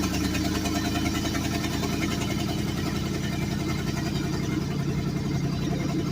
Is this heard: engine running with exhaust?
yes